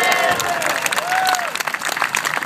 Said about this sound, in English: Another round of applause for Pidilo.